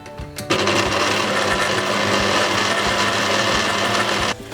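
An electric mixer whirs loud and steady as it beats icing sugar into vanilla buttercream, starting abruptly and cutting off near the end.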